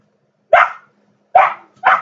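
Three loud, close dog barks ring out alone in an indoor setting: two spaced apart, then a third following quickly after the second.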